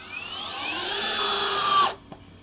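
A DongCheng DCPL165 cordless impact driver runs at full speed with a steady high whine for nearly two seconds, then cuts off abruptly, leaving a brief faint click after.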